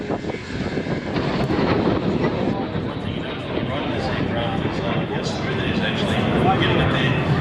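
Aircraft engine droning at an air show at Illawarra Regional Airport, a steady, moderately loud roar heard from a distance with wind buffeting and people talking over it.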